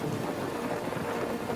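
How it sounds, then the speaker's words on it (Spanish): A spectacular electrical thunderstorm of the kind that caught Luther on the road to Erfurt: a dense, continuous roar of heavy rain and rumbling, loud and unbroken throughout. "Cuando de pronto se vio atrapado en una espectacular tormenta eléctrica."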